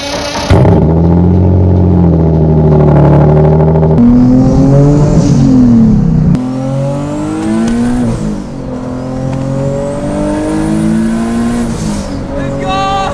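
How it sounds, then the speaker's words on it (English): A Nissan 370Z/350Z starts cold and drives straight off, with the engine catching, idling briefly, then revving hard through rising and falling gear pulls, loud and close throughout. "This is how you improperly start the car and go."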